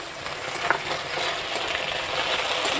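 Ginger paste goes into a pan of fried onion and oil, producing a steady, even hiss of frying for a few seconds.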